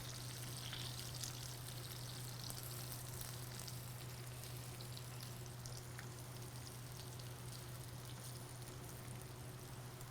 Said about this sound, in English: I'm gonna put them in about 3 tablespoons of hot oil, and we wanna fry them on each side until they get nice and crispy